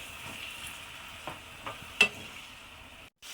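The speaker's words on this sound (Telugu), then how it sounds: "తర్వాత టమాటో ప్యూరీ వేసుకుందాం. పచ్చివాసన పోయేదాకా ఫ్రై చేసుకుందాం." Tomato puree fries in a pan, holding a steady soft sizzle under a few close scrapes and taps of a stirring spoon, then cutting off abruptly near the end.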